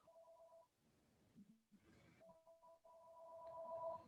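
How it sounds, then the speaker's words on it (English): A house phone rings faintly in the background with repeated electronic tone bursts, interrupted by quiet talk and muffled sounds. "pardon my house phone in the back"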